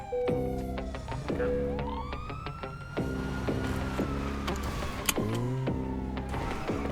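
A police siren wails and whoops in GTA FiveM, its rising and falling tones layered over the steady hum of engines and other game sounds.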